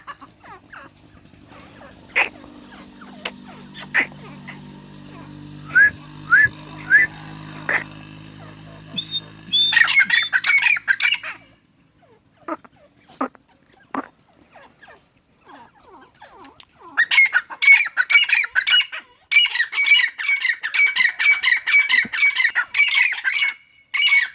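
A male partridge calls in loud, close bursts of sharp, rapid squawking notes that repeat in clusters, with quieter gaps and a few scattered clicks between them.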